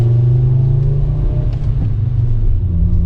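Volkswagen MK5 Jetta with a manual transmission driving slowly around a residential neighborhood, heard from inside the cabin as a loud, steady low engine drone and road rumble with slight shifts in pitch and no talking.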